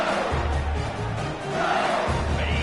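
A large stadium crowd at a Utah vs LSU football game roars and yells loudly and continuously, a dense wall of cheering voices with a brief dip in the middle.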